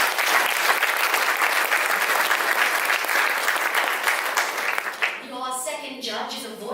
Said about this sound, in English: Quick round of applause for Lauren Moss.